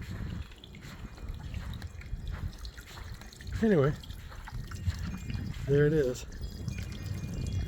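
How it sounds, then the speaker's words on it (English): A solar-powered backyard waterfall splashes and trickles steadily throughout, a constant watery wash beneath someone talking, with two brief higher whistling sweeps breaking through midway. "Waterfall"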